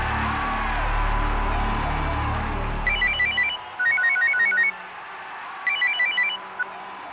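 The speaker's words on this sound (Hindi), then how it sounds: "डिकिंसन को फोन लगा।" An electronic phone ring on an outgoing call repeats in short trilling bursts, three rings separated by pauses, after a low background hum cuts out.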